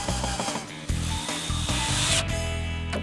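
A power tool drives screws through glued cleats into wood in a woodworking shop, giving a loud, steady whirring drone with brief dips and restarts, close up and continuous over about three seconds.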